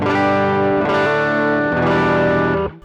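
Electric guitar chords played through effects pedals directly into an audio interface, with no amp, ring out thick and shimmering with chorus and grit, loud and sustained, changing a few times before cutting off.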